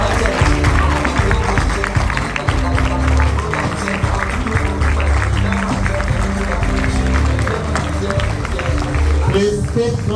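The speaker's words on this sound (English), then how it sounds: "Please keep clapping. Make it much louder for her." Conference audience clapping in a hall, a busy wash of hand claps blended with crowd babble and nearby talk throughout, steady and fairly loud with no clear break.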